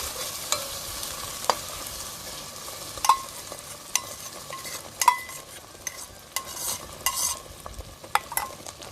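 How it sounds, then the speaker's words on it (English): Onion paste for a North Indian chicken korma fries in a pan while a utensil stirs it. A steady soft sizzle runs throughout, with sharper scraping clicks from the stirring about every second. "I'm just gonna add the onion paste first."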